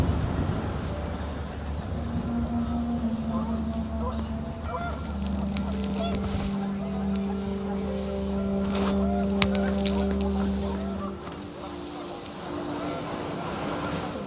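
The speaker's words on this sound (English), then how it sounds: "wind picked up, and panicked geese appeared and quickly went" Panicked geese honk in What Remains of Edith Finch, a flurry of loud, overlapping calls over a windy backdrop, some long and drawn out, others short and clipped.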